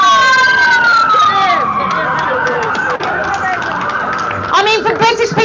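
An emergency ambulance siren wails in rising and falling sweeps, loud and close, continuing steadily throughout with a brief dip near the middle.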